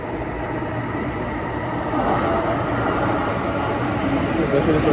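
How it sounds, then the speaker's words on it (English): A train approaching a station, a steady broad rumble of rail noise that grows slightly louder partway through, with people talking over it. "Train, you hear it? That train is coming."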